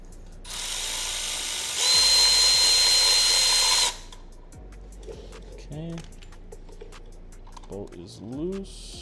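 Power tool spinning out a cover bolt on a Kawasaki Eliminator motorcycle, one loud two-stage whirring burst lasting a few seconds, followed by quieter rattles and small clinks of handling.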